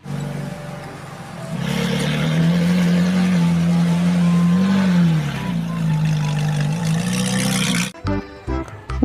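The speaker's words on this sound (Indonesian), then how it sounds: "Ini ada mobil balap." Toy race car from a set of toy trucks and vehicles gives a steady, loud electronic engine hum for about eight seconds, then cuts off into brief clattering handling noises.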